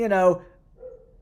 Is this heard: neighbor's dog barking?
yes